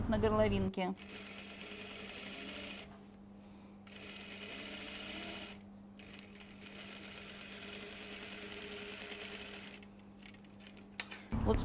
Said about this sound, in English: Be very careful when stitching the angles.